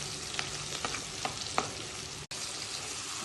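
Onion and green chili fry in a pan as the first step of a red fish curry, giving a faint, steady sizzle with a few soft clicks of stirring.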